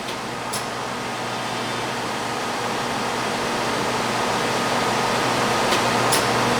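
A Butfering Super 213 ML 53-inch widebelt planer/sander runs at speed, giving a dense, steady mechanical roar with a low hum underneath and a couple of faint clicks, no voices.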